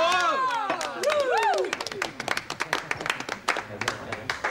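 Busy, crowded venue filled with lively crowd noise: overlapping voices with rising and falling tones, scattered sharp claps and thumps, and a continuous dense murmur close by.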